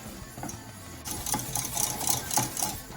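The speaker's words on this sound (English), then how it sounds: "Throw in some more milk. Stir it." Milk being stirred into a cheese sauce for a creamy layered bake, a spoon scraping and clinking against the pan in a steady rhythm that grows busier and louder midway, close by with no talk.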